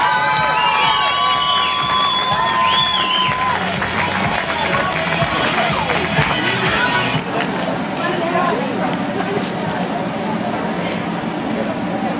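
A pageant crowd applauds and cheers the contestants in a steady roar of clapping with whistles and shouts, fairly loud and continuous, with some voices calling out inside the noise.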